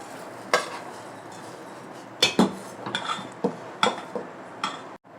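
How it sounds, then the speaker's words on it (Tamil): Roasted flattened rice is stirred into milk in a pan for Krishna Jayanti aval payasam: a steady, soft bubbling background broken by about eight sharp ladle clinks and scrapes against the metal pan, close by and without speech. "இந்த அவலை வந்து அதில் பாலோட கலந்துக்கலாம்"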